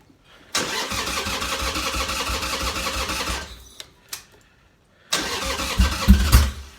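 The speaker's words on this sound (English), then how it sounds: "first start on the 883 this season" A Harley-Davidson 883 motorcycle engine cranks and fires into a rough idle for a few seconds, cuts out, then restarts with a louder, throbbing idle, close by and without speech.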